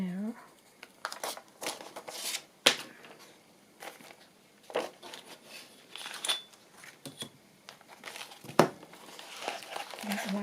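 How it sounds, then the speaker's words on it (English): Paper from a Christmas ephemera kit is torn and crinkled by hand in repeated bursts of ripping and rustling, close and fairly loud, with brief pauses between strokes. "So I'm going to tear that down there."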